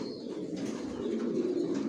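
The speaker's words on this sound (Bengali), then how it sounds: "এগুলো সব আমার বিডার কবুতর, আপনাদের ধারণা দেওয়ার জন্য আমি বিডারগুলো দেখাচ্ছি।" Breeder racer pigeons coo in a loft, a soft continuous low burble of several birds close by with no speech.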